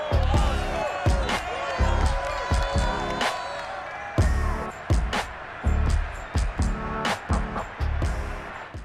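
Stadium crowd noise in Madden NFL 22 at an Eagles versus Seahawks game, a steady roar of fans punctuated by sharp thuds and bangs, with commentators talking over it.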